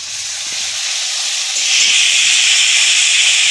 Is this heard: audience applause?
no